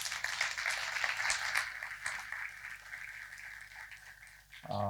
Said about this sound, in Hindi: एक छोटी सी प्रोत्साहन की ताली स्नेहा के लिए